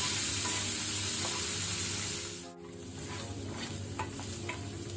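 Onions sizzle and crackle in tempering oil for a Mangalorean chicken curry, a dense continuous frying hiss that dips for a moment midway, then carries on with small pops and spatters.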